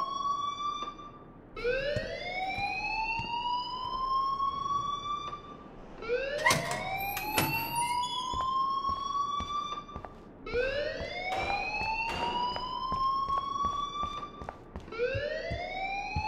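An alarm in the video game Life is Strange, a rising siren-like whoop that sweeps upward repeatedly in long cycles, loud and sustained, with brief clanks and thuds between sweeps.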